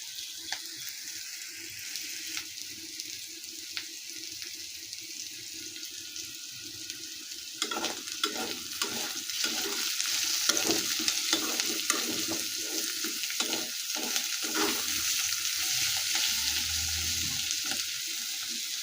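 Meat drops into spices frying in a pan: a soft sizzle at first, then louder frying with a run of clattering spoon-stirring scrapes and knocks in the second half.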